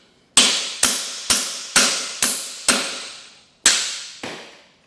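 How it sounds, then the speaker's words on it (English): Hammer blows drive a chisel to cut rivets off a broken hay mower, landing as eight sharp, loud metallic strikes in an uneven rhythm, each ringing briefly before decaying, with a pause before the last two and no voices. "the other way to take out the rivets is to try to cut them off with a chisel."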